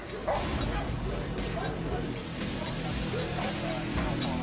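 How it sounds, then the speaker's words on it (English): Police dog barking in rapid, loud bursts near a car during a tense arrest in Oakland, the yaps tumbling over each other with a voice speaking over the noise. "The dog will find you, the dog may bite you."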